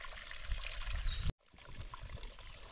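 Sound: stream water trickling while filling water on Appalachian Trail

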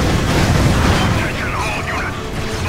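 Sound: gun firing in video game Ratchet & Clank Future: Tools of Destruction

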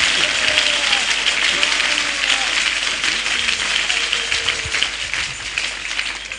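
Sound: church congregation clapping

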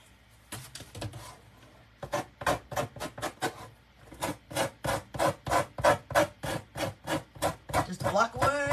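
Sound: sanding with sandpaper on a wood block

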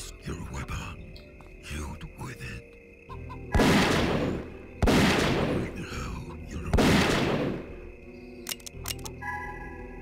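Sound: rifle gunshots in a video game

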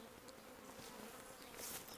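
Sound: small cast swarm of honey bees on azalea bush

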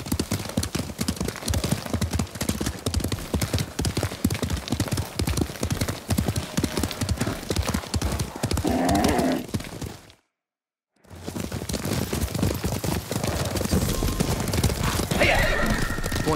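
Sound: horse galloping and neighing in video game Ghost of Tsushima

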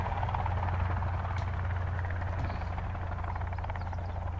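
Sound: helicopter flying, from a video game

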